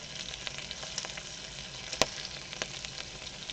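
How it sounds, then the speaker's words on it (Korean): Kimchi stir-frying in a pan, a steady broadband sizzle with scattered crackles and pops and one sharp clink near the middle, continuous and fairly close, with no voices. "김치 좀 볶아 먹으려고"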